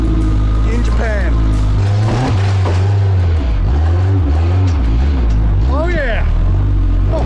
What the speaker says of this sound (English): It's awesome enough just to have a chance to drive in a four-wheel drive, let alone get to be playing off-road in Japan.